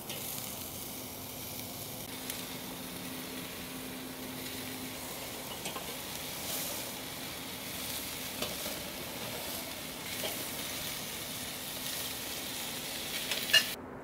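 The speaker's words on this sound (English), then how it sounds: "now I'm going to go ahead and sear these burgers directly over the heat" Burgers sear directly over a charcoal grill's heat, giving a steady, moderate sizzle that runs unbroken with faint crackles and one brief sharper pop near the end; no one speaks.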